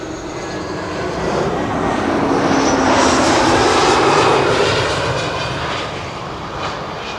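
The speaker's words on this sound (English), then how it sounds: "Air Arabia Morocco arriving from Nador." An Air Arabia Morocco airliner from Nador passes overhead on arrival at Schiphol, its jet engines swelling into a loud broadband roar that peaks midway and then fades gradually, with no talk.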